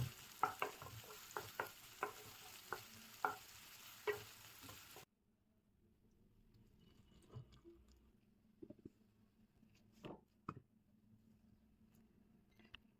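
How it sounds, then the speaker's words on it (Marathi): Ginger, garlic and coriander fry in a pan for a masala fish curry. A few seconds of rapid scraping and stirring clicks give way to a much quieter stretch of soft sizzle with occasional taps. "याच्यामध्ये आपण अद्रक आणि लसूण ॲड करतोय. कोथिंबीर आणि चांगलं पहिले फ्राय करून घ्यायचंय."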